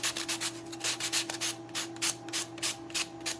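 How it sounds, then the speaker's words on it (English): A sanding block rubs along the edge of a canister in quick, repeated back-and-forth strokes, a rhythmic gritty scraping heard up close with a faint steady hum behind it. "Okay, we take our sanding block"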